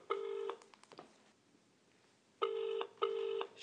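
Telephone ringing as a call is placed to a guest: a clear electronic ring burst, a short pause with faint clicks, then two more ring bursts, close and alone.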